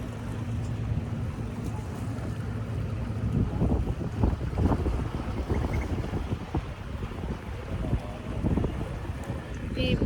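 Wind gusts across the microphone on a seaside walk at sunset, a steady close rumbling roar that lasts the whole stretch with faint background activity and no clear talking.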